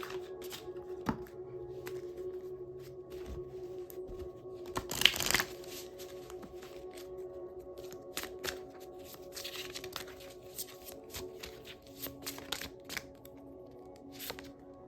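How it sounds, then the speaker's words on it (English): Oracle cards being shuffled by hand during a card reading, a quiet steady riffle and rustle with a few louder slaps of the deck, running without speech throughout. "let me go ahead and get an Archangel Michael card for you guys, and a Soul Truth card"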